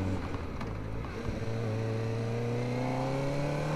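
A 2024 Kawasaki Ninja ZX-4RR, a 4,000 km test bike with a smooth quickshifter gearbox, revs up close by, its engine pitch climbing steadily after a brief dip at a gear change.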